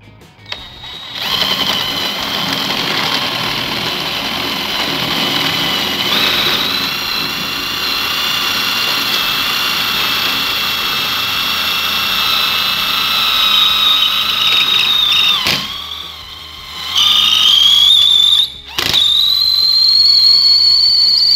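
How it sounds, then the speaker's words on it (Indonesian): A cordless impact drill with a concrete masonry bit whines steadily for about fifteen seconds while drilling into a hard concrete wall, then stops and restarts in a few short bursts, its pitch rising as it spins up. "Sekarang saya coba untuk bor dinding ini menggunakan bor cordless ini"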